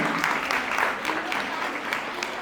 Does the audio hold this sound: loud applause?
yes